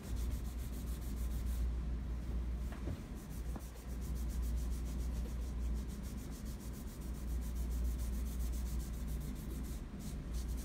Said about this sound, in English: Now I'm going to take my waxing rag and I'm going to work it in.